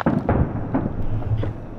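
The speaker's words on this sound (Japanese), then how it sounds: "何年ぶりだろうね、花火見れたの。" Fireworks bursting over a campsite, several deep thumping booms in quick succession with a rumbling crackle between them, heard from a moderate distance.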